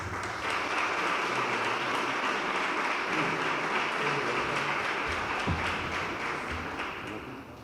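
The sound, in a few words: audience applause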